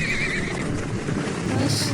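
Horses neigh in a battle scene from the film Baahubali, with a high whinny rising above a dense rumbling mix of hoofbeats and action noise. A second cry comes near the end, and faint voices are heard underneath.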